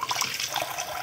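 Running water at a bathroom sink as soap is rinsed off a face, a steady close splashing trickle.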